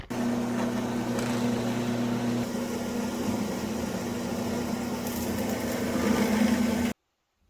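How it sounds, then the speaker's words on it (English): A router bit cuts wood along a template, a steady loud whining drone with a constant hum that runs for about seven seconds before cutting off abruptly, with no talking. "Just carefully follow your template and let the router bit do its work."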